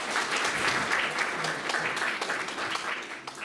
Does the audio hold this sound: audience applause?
yes